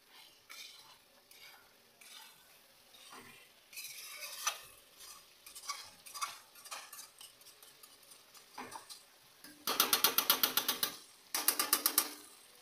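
Mutton is stir-fried in a kadai in irregular scraping and clattering strokes at moderate volume, ending in two loud, harsh rasping bursts of frying and stirring.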